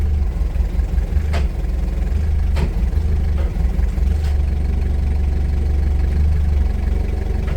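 A 2019 Toyota 02-8FDJF35 forklift engine idles steadily with a low, even rumble while the side shifter is operated, a few faint clicks or knocks breaking through now and then.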